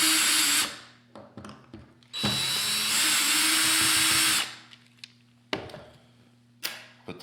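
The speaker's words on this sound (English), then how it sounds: "You'll start by removing those 2 screws." A power drill whirs in short bursts, backing out two screws from a Dupray Neat steam cleaner handle, with clicks and pauses of near silence between runs.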